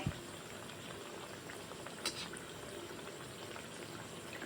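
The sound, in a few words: kachori frying in oil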